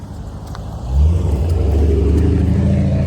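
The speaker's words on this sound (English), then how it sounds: "Look, muffler loud as a motherfucker." A car with a loud muffler rumbles past close by, swelling into a deep, throbbing growl after about a second and holding it. Nobody talks.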